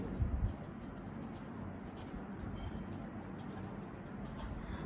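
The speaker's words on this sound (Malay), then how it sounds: "persamaan yang baru cikgu tulis balik" Faint, repeated scratchy strokes of an equation being handwritten for an additional-mathematics trigonometry lesson, set over a steady low background hum.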